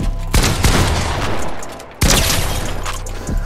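Rapid automatic gunfire in a one-versus-one Fortnite-style shooter match, loud close bursts starting in two clusters separated by a short lull, with sharp repeated shots.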